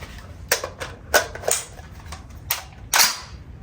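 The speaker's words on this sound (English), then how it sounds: "we'll go ahead and throw 5 out of her right quick" A Springfield M1A Squad Scout rifle fires five sharp shots at uneven intervals, each a loud, crisp crack with a short ring-off, recorded outdoors at close range.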